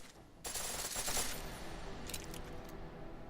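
A pistol fired in full auto at the TF29 shooting range in Deus Ex: Mankind Divided, a rapid burst of shots followed by a quieter second burst, fairly faint and without talk.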